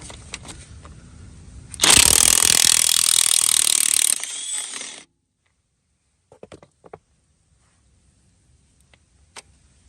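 A DeWalt DCF900 impact wrench hammers loose a rusted bolt on a 1974-78 Ford Mustang II rear end, with one loud dense burst lasting about three seconds, then near silence broken by a few faint metallic clicks and taps.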